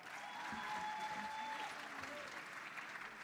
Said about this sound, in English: what I'm going to do is give her a round of applause, y'all